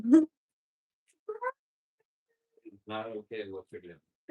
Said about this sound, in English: Our cat hates thunder, if you can't tell. He's screaming.